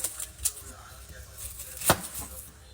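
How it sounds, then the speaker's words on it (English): A knife chops red onion on a board in a few sharp, separate knocks spread apart in time, close by and fairly quiet. "You don't have to, obviously you don't have to chop it that neatly because we're going to fry them up"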